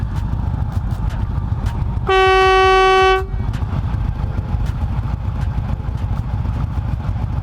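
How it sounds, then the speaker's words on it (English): A loud vehicle horn sounds for about a second in a horn competition, a bright harmonic blast standing out over constant heavy engine rumble before and after. "we have a horn competition"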